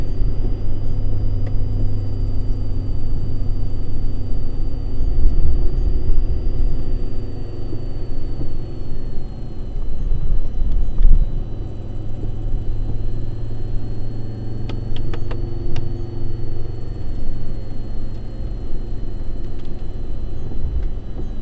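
A Ford Ranger Wildtrak pickup's engine rumbles low and steady as it drives on wet roads, with occasional slight surges in revs and no talking.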